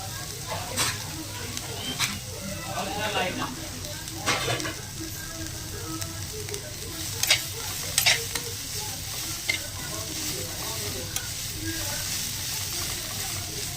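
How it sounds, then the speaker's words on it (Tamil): Onions frying in a pan while being stirred, a constant close sizzle with repeated sharp spatula scrapes and clicks spread across the stretch, and no voices. "நல்லா பாருங்கள் இதை விட இன்னும் கொஞ்சம் ப்ரௌன் கலரில் வரணும் வெங்காயம்"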